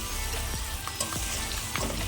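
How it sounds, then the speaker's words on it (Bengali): Spices, fried potato and chopped coriander are sautéed in a pan for a bhetki fish head curry, giving a continuous close sizzle with a few sharp crackles and stirring clicks. "তাই আমি ধনেপাতা কুচিটা দিয়ে আমি আর একটু কষিয়ে নেব।"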